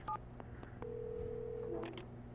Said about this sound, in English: See if I can get that phone to work.